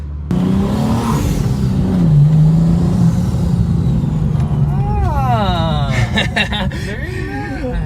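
A 2023 BMW M3 engine revs and accelerates, rising in pitch with several surges and gear changes; a voice briefly chuckles over the engine roar.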